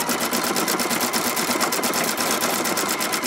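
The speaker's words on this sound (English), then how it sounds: "Just sew this all the way down." A PFAFF Creative Icon sewing machine stitching steadily down a seam, its needle clattering in a fast, even rhythm that stays close and loud throughout with no talking.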